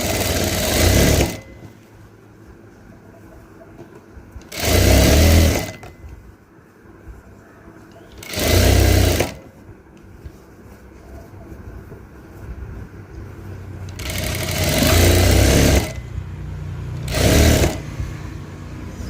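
A home sewing machine stitches folded fabric in five separate bursts of rapid mechanical whirring, with quiet pauses between runs.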